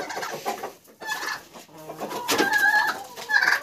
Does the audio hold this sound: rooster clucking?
yes